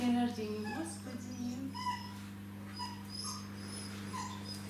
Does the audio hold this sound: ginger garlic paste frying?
no